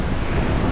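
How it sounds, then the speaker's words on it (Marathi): Large waves break and surge along the stormy Mumbai coast in deep-sea fishing conditions, a steady dense roar close by mixed with heavy wind buffeting the microphone and no voices. "सर्व ठिकाणी मोठमोठ्या लाटा येतात."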